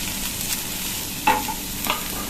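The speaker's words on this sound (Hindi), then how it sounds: "पत्ता गोभी, इन सभी को मैं अच्छी तरह से थोड़ी देर भून लेना है।" Sliced cabbage and capsicum being stir-fried in a pan for veg spring rolls, a constant gentle sizzle broken by a couple of sharp spatula scrapes and clinks, moderately quiet and without speech.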